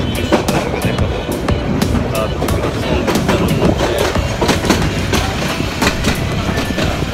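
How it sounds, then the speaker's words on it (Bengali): A train rolls past at Dhaka airport railway station, loud and close, with a steady rapid clickety-clack of wheels over rail joints and a rumbling body noise throughout. "কারণ কিছুক্ষণ পরই আরেকটি ট্রেন আসবে"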